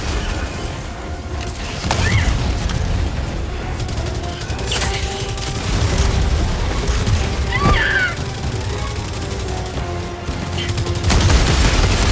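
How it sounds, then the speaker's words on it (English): Gunfire in Helldivers 2: sharp shots and a loud burst ring out amid mechanical reload clicks and clatter, over a steady, busy background of game noise. "Reloaded, shot once, automatically reloaded again."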